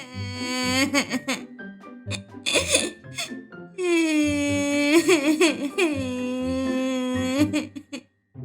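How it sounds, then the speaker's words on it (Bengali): A child character in an animated Bengali story cries and wails with rising and falling sobs, loud and close, broken by short pauses and sharp gasps between long drawn-out wails. "হিংসুটির মুখে আর কথাই নেই সে কেবলই কাঁদছে"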